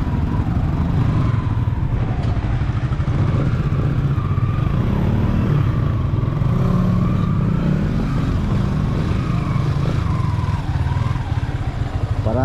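A motorcycle engine runs close by for the whole stretch, a continuous loud rumbling drone with small rises and dips in revs and no voices over it.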